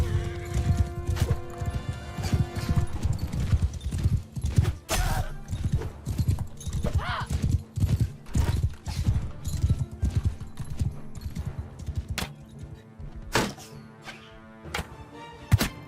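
Horse archers' mounts gallop in the video game Bannerlord, hooves pounding in fast overlapping clip-clops with sharp thuds and clatter, loud and near, with a brief whinny and no clear speech.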